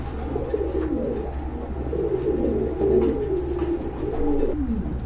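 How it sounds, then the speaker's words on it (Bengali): Homer pigeons at a fancy pigeon market coo in soft repeated rolling phrases, moderately near over a steady low hum of background noise, with no talk. "আর এখানে রয়েছে এক জোড়া সবজি হোমা কবুতর"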